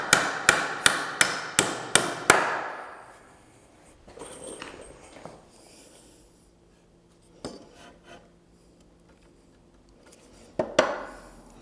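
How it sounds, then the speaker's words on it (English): Hammer strikes drive nails into wood while building a sawhorse: six quick, evenly spaced sharp blows up front, then quieter scraping and handling, and a couple of louder knocks near the end. "drive another nail."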